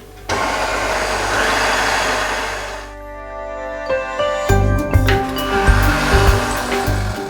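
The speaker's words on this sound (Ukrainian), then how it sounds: "Додаємо яйце і знову ще раз збиваємо все до однорідності." An electric mixer beats yeast dough after an egg is added, giving a steady motor whir that dips and then returns rougher and lumpier with irregular thumping as the dough works; close and alone, without talking.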